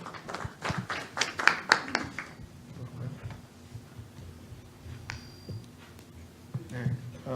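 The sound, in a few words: audience applause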